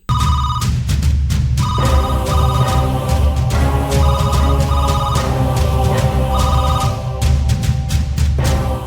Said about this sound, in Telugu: నీ సెల్ ఫోన్ ఎక్కడ పెట్టావు? రింగ్ అవుతున్నా ఎందుకు లిఫ్ట్ చేయట్లేదు?